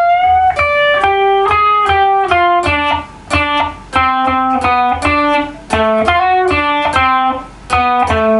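Electric guitar playing the lead part from a rock cover of a 1950s rock and roll song, a quick run of bright, lightly driven double-stop licks and bends, loud and close with brief pauses between phrases.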